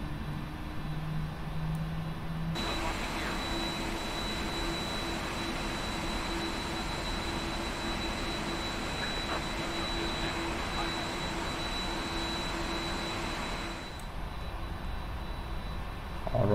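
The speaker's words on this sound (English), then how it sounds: "Alright, we have all the engines running" A PMDG 747-400F cargo jet in the Prepar3D flight simulator with all engines running: a steady, loud broadband jet roar and whine that holds evenly throughout, with no talk over it.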